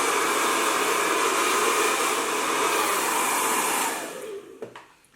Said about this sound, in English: So give my hair a little dry.